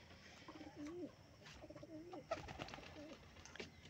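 Pigeons coo in soft, repeated throaty phrases at a small loft, several calls overlapping, with faint rustling and a sharp click in the background.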